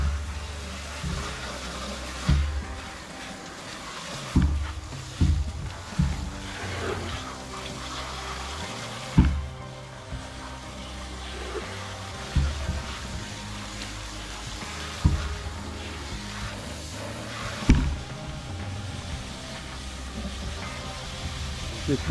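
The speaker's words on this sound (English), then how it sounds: "Get some water in that reservoir. Let it swirl around." Water sloshes and swirls in the hollow plastic reservoir of an evaporative cooler, with rhythmic surges and thumps recurring every couple of seconds, close and continuous.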